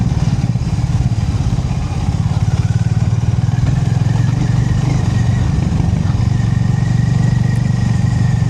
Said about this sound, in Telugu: సో ఇట్లా మీరు థ్రాటిల్ ఓపెన్ చేయగానే వెళ్ళిపోతుంది వెహికల్ అయితే.